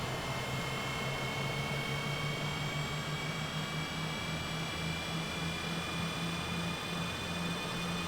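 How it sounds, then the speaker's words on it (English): Twin jet engines of a CJ4 business jet spool up in Microsoft Flight Simulator 2020, a steady whining drone with sustained high tonal harmonics over a low rumble, heard alone without talk. "Listen to those engines spool up."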